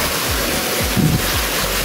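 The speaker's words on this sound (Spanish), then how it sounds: "Hemos encontrado una cascada en el Parque María Luisa y aquí ya tenéis." A waterfall in María Luisa Park, Seville, gives off a constant loud rushing hiss, with low thumps of wind buffeting the microphone.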